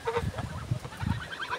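Geese on a smallholding in Hungary give a few nearby honks and clucking calls against farmyard background noise.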